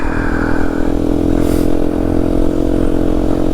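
A 2023 KTM 790 Duke motorcycle rides along the road with a loud, steady engine drone and rushing wind, close up and alone.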